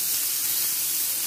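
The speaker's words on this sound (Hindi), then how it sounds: "ये हम इसमें डाल देंगे और इसको अच्छे से भूनेंगे" Finely chopped medium onion sizzling in a pan, a loud, dense, continuous hiss heard close up for a brief moment.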